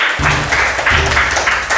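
Children in a classroom clapping their hands together, a loud, dense burst of many claps with rhythmic surges of group clapping and faint voices mixed in.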